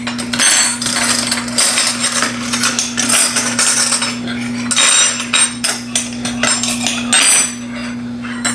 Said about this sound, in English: I probably could have grabbed a bunch of spoons out just for the picture. You know what? Let's do it.